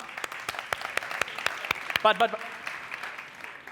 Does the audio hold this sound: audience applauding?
yes